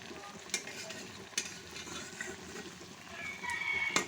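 Poa pitha, a sweet fried rice-flour cake, fries in hot oil with a constant close sizzle, broken by a few sharp clicks and scrapes of a utensil in the pan.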